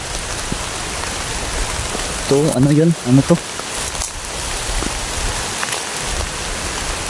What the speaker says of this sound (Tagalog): Tapos ulan pa.